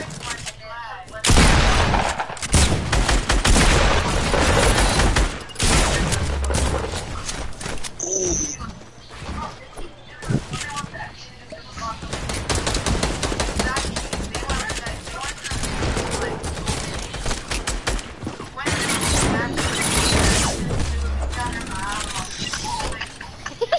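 Video game gunfire rattles in dense bursts of sharp shots and rapid volleys across the whole stretch, loud and close, with players talking over the shooting.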